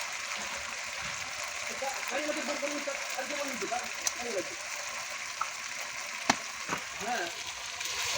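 Spices sizzling in hot oil while being sautéed for mutton on a wood-fired clay stove, a steady close crackle with occasional pops, a voice speaking faintly underneath.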